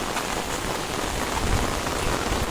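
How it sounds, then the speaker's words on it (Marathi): Heavy rain pours down steadily during a red-alert downpour in the Konkan, a dense, loud, unbroken hiss of drops close around with no voices. "मला असं वाटतं पावसाचाच आवाज येत असेल."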